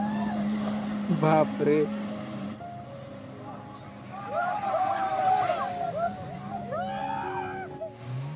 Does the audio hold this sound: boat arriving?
yes